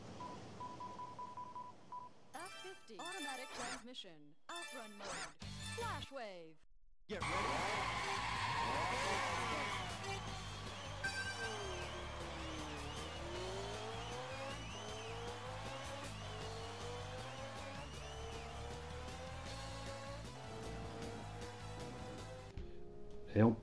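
Arcade car racing game on Xbox: a burst of menu beeps and electronic tones, then a steady roaring engine with rising and falling revs, gear shifts and tire squeals over music, fairly loud throughout.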